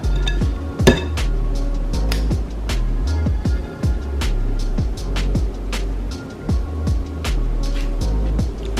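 Muffin batter for sour cream blueberry muffins being scooped into a muffin tin with a small scoop, giving a steady run of close metallic clinks and knocks against the pan, repeated about once a second.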